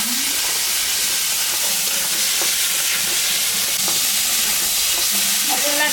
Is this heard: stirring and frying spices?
yes